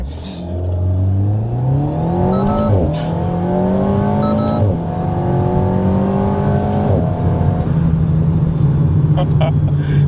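An Alpine A110 sports car launches from a standstill, its engine climbing steeply through the gears in several loud, rising sweeps with brief dips at each shift, heard close from inside the cabin.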